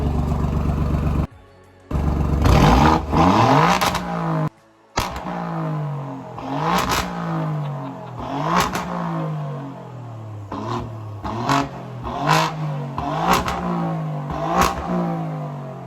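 A sports car engine in race mode, from an Alfa Romeo 4C, Giulia QV and Maserati MC comparison, revs hard in repeated sharp blips. It rises and falls rhythmically, with brief cutouts early on, and is heard loud and close.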